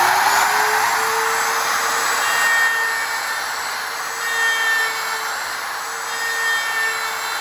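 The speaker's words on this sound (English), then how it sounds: "I'm going to turn the router on." Wood router running on a jig while making a jewelry box, a steady loud whine with a constant high tone and rough cutting noise, close and alone.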